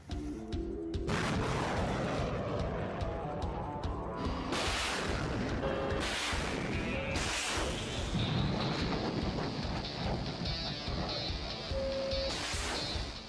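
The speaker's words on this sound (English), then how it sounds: "This baby even allows the crew to fire off the full payload of 12 missiles from the safety of the vehicle's cabin." A US Army rocket launcher vehicle fires missiles in a series of loud blasts, each a sharp boom followed by a roaring whoosh trailing off, with wind buffeting the microphone between launches.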